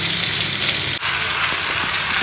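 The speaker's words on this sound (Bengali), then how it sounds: "আর এখানে চিংড়ি মাছ ভাজা চলছে" Shrimp fry in hot oil in a pan, a loud, steady crackling sizzle close by, with one brief dip in the middle and no voices over it.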